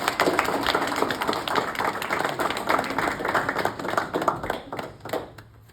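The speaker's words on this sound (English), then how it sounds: "We can clap." Dense, steady applause fills a courtroom after an adoption petition is granted, many hands clapping close and loud, thinning and fading toward the end.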